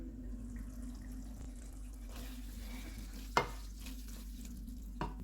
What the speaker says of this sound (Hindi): इसको ऑयल अलग होने तक भून लेंगे